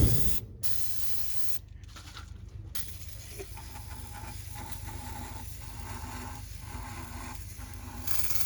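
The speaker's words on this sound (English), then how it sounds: "I should spray it in the top too, but that can is getting pretty cold" An aerosol carburetor cleaner sprays in a long continuous hiss on the carburetor of a 1951 Chevy, broken by a few brief pauses, up close against a quiet background.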